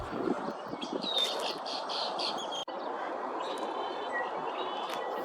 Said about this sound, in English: There was a continuous chorus of red-winged blackbirds in the trees around the marsh